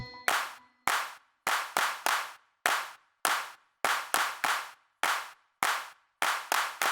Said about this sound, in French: Pour la dernière fois, applaudis tout.